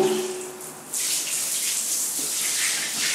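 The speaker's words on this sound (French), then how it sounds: "Donc là, j'envoie la douchette, nickel chrome." Water running from the nickel-chrome hand shower of a Jacob Delafon Strayt shower column into a shower tray, starting abruptly after a brief hum and continuing as a steady, close hissing spray.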